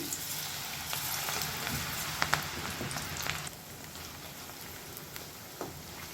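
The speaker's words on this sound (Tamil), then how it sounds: "இப்போ நம்ம வந்து எண்ணெயில் போட்டு பொறிச்சு எடுத்துடலாம்" Mushrooms for roadside-style kaalan deep-frying in hot oil, a steady dense sizzle and crackle with a few sharper pops, softening slightly partway through.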